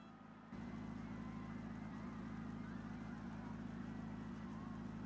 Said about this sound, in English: I like the idling sound